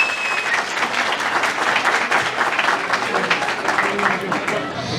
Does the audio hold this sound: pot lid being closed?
no